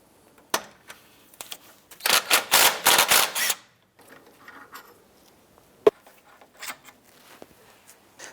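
Socket wrench loosening brake caliper slider pin bolts on a 2004-2009 Dodge Durango's rear brakes, with sharp metallic clicks and a dense burst of ratcheting clatter in the middle, then scattered taps and clinks close by.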